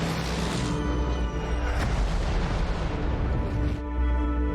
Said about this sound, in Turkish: Ölüm bombalar patlıyor vesaire